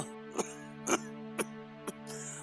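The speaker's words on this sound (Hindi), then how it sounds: "पहले खांसना तो बंद करो।" Repeated coughing from a man, four or five short harsh bursts spaced about half a second apart over a steady background tone, fairly close.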